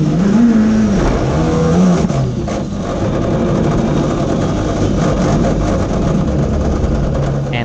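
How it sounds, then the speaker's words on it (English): A race car engine on the Pikes Peak hill climb revs freely after losing drive, a loud, close, rising and falling whine with quick throttle blips and gear-change dips as the car coasts without pulling. "Car's not moving anywhere. It's just free revving."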